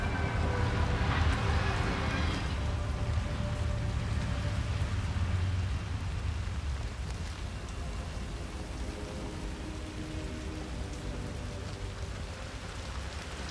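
Steady rain pours in Hitman 3, a dense, even hiss that is loudest in the first few seconds and then settles slightly quieter, with a low ambient hum underneath.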